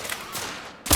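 A burst of gunfire from a sniper in the video game The Order: 1886, one loud close crack at the end after a short stretch of quieter rumbling battle ambience.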